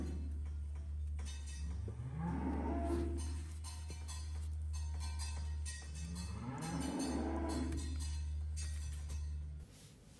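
A penned bull on a cattle farm moos in protest, with two long, drawn-out bellows a few seconds apart over a steady low background hum, fairly distant and not loud.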